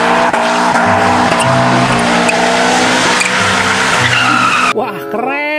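A toy race car sound effect plays loudly, revving engine noise with squealing tires over several seconds, ending in a short bright sweeping electronic tone.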